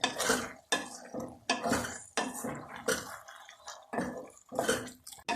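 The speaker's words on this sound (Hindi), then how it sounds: "साग में भून रही हूँ अच्छी तरह।" Turnip greens (saag) being fried in butter and stirred in a pot, with repeated clanks and scrapes of a utensil against the metal in uneven bursts, close and without talk.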